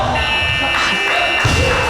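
A buzzer sounds at a kendo match in a corporate team league, holding a continuous electronic tone over loud hall noise for about two seconds.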